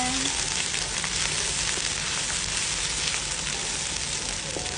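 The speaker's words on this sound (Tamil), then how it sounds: "அரைச்சிட்டு எண்ணெய் நல்லா வதக்கிடுங்க." Ginger-garlic paste frying in oil for spicy honey mutton, a dense, even crackling sizzle that stays close and constant for several seconds with light stirring beneath.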